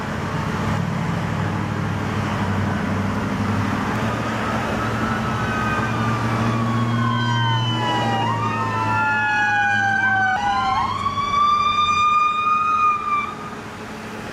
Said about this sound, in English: There you go, they actually did call the ambulance.